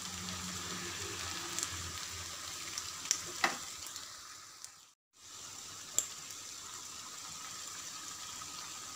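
Masala vada lentil fritters frying in hot oil, with a steady close sizzle and a few sharp pops and crackles. The sizzle drops out briefly midway, then resumes.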